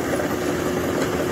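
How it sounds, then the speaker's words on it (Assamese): Tractor engine idling beside a combine harvester in a paddy field, a loud, close, steady diesel drone with a constant hum and no breaks. "এইখন ট্ৰেক্টৰ আহিছে চাওক"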